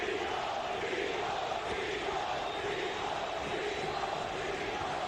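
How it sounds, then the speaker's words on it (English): A large boxing arena crowd chants the fighter nickname "Tito" in a rhythmic, sustained roar, heard from a distance as a continuous wash of voices. "Crowd chanting Tito, Tito, Tito, Trinidad's nickname."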